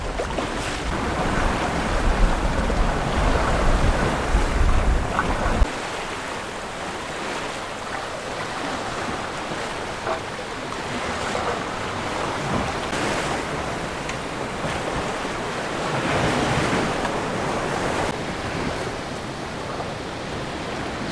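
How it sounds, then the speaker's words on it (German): Sailboat underway off Cape Finisterre in a light 10-knot breeze with slight leftover swell, giving a continuous rush of wind and water against the hull, heavier at first, then a steady softer wash. "Wir haben ganz wenig Welle, beziehungsweise ganz wenig Schwellen noch von gestern und wenig Windsee im Moment noch."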